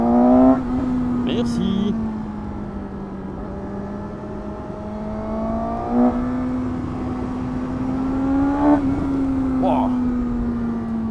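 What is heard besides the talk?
Suzuki GSX-S 750 motorcycle engine revving, 114 hp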